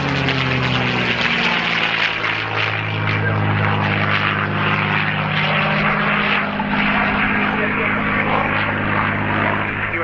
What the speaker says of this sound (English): here we see the other of the two escort fighters that joined the B-17 earlier, running back in the P-47D Thunderbolt.